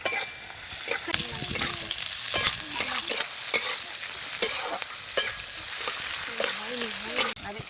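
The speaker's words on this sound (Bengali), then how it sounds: "পেঁয়াজ টমেটো ক্যাপসিকাম লাল করে ভাজবো না দু একবার নেড়ে নিলে হয়ে যাবে" Onion, tomato and capsicum being stirred in a frying pan for chilli chicken, with a spatula scraping and clinking in repeated strokes over a steady close sizzle.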